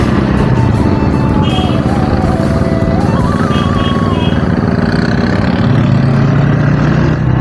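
Loud street traffic with auto rickshaws and motorcycles, engines droning and revving close by, with a horn-like rising tone and a heavier engine rumble swelling toward the end.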